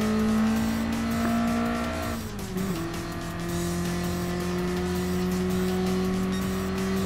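A BMW M3 Sport Evolution, the classic late-1980s sports car, races in Gran Turismo Sport, its engine droning steadily and loud, dipping briefly on a downshift near mid-clip before climbing again with tire squeal.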